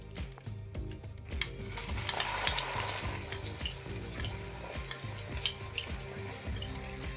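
Cumin, poppy seed and cashew paste sizzle and fry in a pan. A spoon stirs and scrapes against the pan now and then, close up and fairly quiet.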